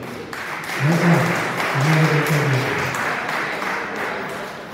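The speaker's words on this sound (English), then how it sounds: "let's give a clap of welcome to this young man." Audience clapping to welcome a young man at a gathering, a dense patter of applause swelling after the first second with voices talking over it.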